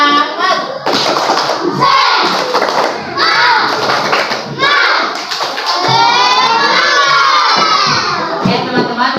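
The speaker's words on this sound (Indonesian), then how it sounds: "Jadi kita tepuk semangat." Students in an Islamic studies class clap a rhythmic spirit clap together, sharp claps and thumps mixed with children's shouting and crowd noise, loud and close throughout.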